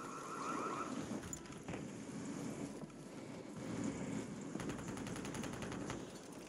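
MTZ 762 rifle fire in the shooter Warzone 3, heard as faint bursts of rapid gunfire under a constant windy, rushing battlefield ambience, with no clear talk.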